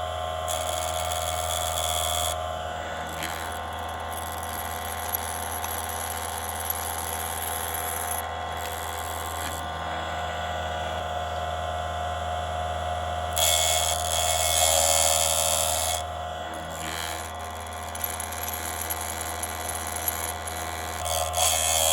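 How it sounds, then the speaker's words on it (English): Parkside 85W electric chain sharpener grinding a chainsaw tooth, a continuous high motor whine with a grinding edge that swells slightly midway, close and steady throughout. "Then proceed to grind the tooth."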